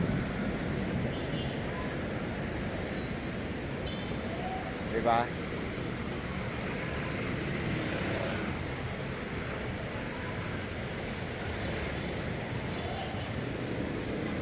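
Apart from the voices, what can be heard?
traffic on EDSA bus lane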